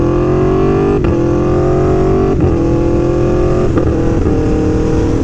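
A 2017 Aprilia Tuono V4 1100 V4 motorcycle engine runs in its track map, holding a loud, steady idle with a rich harmonic drone and a few brief dips in the note, heard alone without talk.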